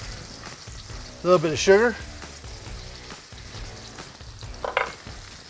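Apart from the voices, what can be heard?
garlic and chili sizzling in a pan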